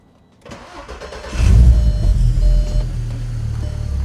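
A Golf estate carrying a hybrid turbo RS3 engine cranks and fires loudly up close, catching with a sudden rise into a deep, steady rumbling idle that holds for a few seconds.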